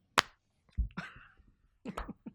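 A few sharp hand claps, loosely spaced and close, with short pauses between them.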